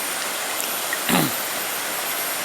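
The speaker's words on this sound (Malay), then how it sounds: "air terjun, sungai air terjun" Steady broadband rush of a waterfall and flowing river at Ulu Bendul, Kuala Pilah, continuous and fairly loud, with one brief splash or knock partway through.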